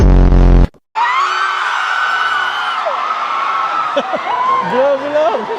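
A fan screams loudly at a concert in Calgary, one sustained high shriek cutting through the crowd, then a noisy hall with cheering and nearby voices talking.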